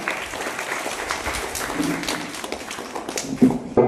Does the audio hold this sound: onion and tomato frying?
no